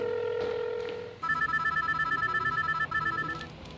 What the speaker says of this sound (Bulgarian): Айфона така ли звъни?